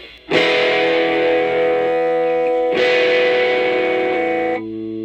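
Two loud distorted electric guitar chords, each struck and left ringing for a couple of seconds through a buzzing, overdriven amp with the gain raised slightly.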